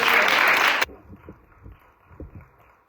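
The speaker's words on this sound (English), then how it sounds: "Let's give them a warm round of applause." Audience applause at a discussion panel on women in healthcare: loud, dense clapping that stops abruptly, then a quiet room with faint shuffling.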